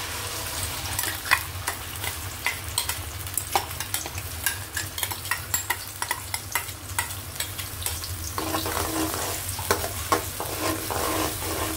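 Prawn sambal ingredients frying in lightly heated cooking oil, a steady close sizzle with frequent sharp clinks and scrapes of a spatula stirring against the pan.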